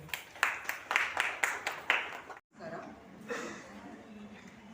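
Rhythmic bursts of hand clapping from a gathered audience at a Women's Day celebration, honouring the oil-lamp offering team, guests and president; the clapping runs for a couple of seconds, then stops abruptly and a voice begins speaking.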